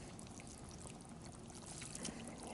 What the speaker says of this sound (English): try and pour this in gracefully with one hand and not spill anything